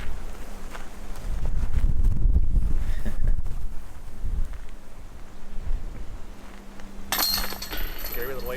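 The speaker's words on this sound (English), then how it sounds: "See the wind, that flag blowing" Wind gusts roar across an open disc golf course, buffeting the microphone with a steady low rumble that swells and eases, a brief bright clink near the end.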